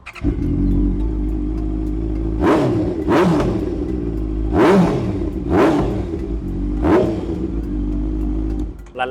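Honda CB650F motorcycle fitted with an aftermarket exhaust, idling steadily and then blipped through four or five sharp, loud revs spaced about a second apart, each dropping quickly back to a rumbling idle.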